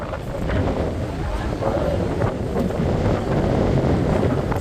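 Strong, steady wind buffeting the microphone at Kalamb Beach, a constant low roar throughout.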